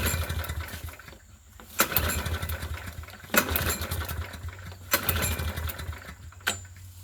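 Push lawn mower engine sputtering through several start attempts: sharp pull bursts recur roughly every one and a half seconds amid uneven, coughing engine running at close range.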